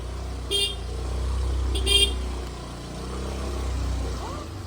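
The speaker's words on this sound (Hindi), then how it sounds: "हॉर्न बजाओ" Two short car horn toots sound over the steady rumble of an idling vehicle on a street in Kanpur, India.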